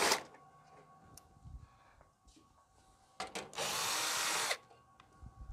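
Screws are backed out of the hood of a Huebsch dryer, giving a close power-driver whir in short bursts, then one loud sustained grinding run of about a second and a half, with a few small clicks and knocks of handling around it.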